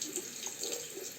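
Tap water running steadily into a sink while an open-comb safety razor is rinsed, a soft continuous splash heard close and fairly quiet, no speech.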